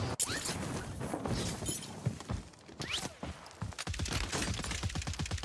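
Gunfire in Warzone arrives as rapid bursts of automatic shots, with a quick rattling burst near the end, mixed with other game sounds and a voice at moderate level.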